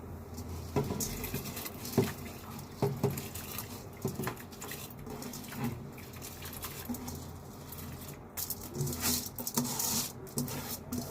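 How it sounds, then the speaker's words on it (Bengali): Washed rice tipped into a pot of already boiling water on a home stove for dum biryani: a steady watery patter and bubbling with scattered splashes and light clinks against the pot, moderately close, no voices. "এই চালটা এর মধ্যে দিয়ে দেবো গরম জলের মধ্যে"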